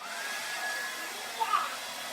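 A hair dryer blowing steadily at moderate volume throughout, a constant airy whir with a brief bump in level partway through.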